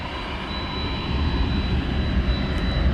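A UPS Boeing 767 takes off from the west side of DFW Airport, its jet engines giving a steady, broad roar that swells slightly louder partway through, with no voices.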